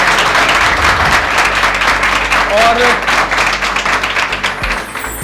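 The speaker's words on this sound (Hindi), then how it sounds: "तो मैं चाहूंगा कि एक बार तालियों से वेलकम" Students applauding to welcome an alumnus at a college event, loud continuous clapping from a large group throughout, with a voice briefly heard over it.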